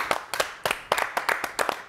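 Rhythmic clapping at a singles fair in the Sahel, about seven sharp, evenly spaced group claps in quick succession.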